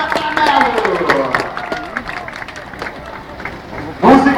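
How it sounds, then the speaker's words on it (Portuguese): Spectators applauding at a Formula Truck race at Velopark, a short crowd burst rising near the end after someone talks over background crowd noise. "vários aplausos de vocês para o incentivo do Jorge Negrete e da Tatanelo"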